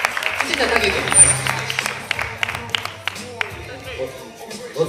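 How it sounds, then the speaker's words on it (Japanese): Audience applause for the winner of the FULLTHROTLE 2019 Kansai tournament, a moderate burst of clapping with voices talking over it. "拍手。"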